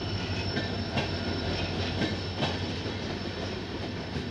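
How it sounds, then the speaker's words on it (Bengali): Mail train bound for Howrah passing at Tikiyapara railway station, a steady broadband rumble with rail clatter sustained throughout, close and fairly loud with no talk. "এই মেল ট্রেনটা আছে কাশের দিকে আসছে"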